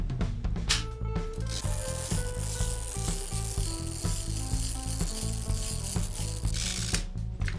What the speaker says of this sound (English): you want to advance this winder until the exposure indication says 1